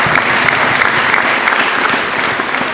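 A congregation at a church service applauds a pastor with loud, sustained clapping from a large crowd, dense and even throughout.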